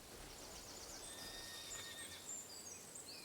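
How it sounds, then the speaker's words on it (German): Horses neigh and whinny in the strategy video game Humankind, with faint high calls scattered over a steady hissing background, quiet and without talk. "Hier sind Pferde"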